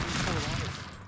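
Stick Fight video game gunfire, a rapid dense burst of loud shots merging into a harsh continuous volley, with a player's voice mixed in.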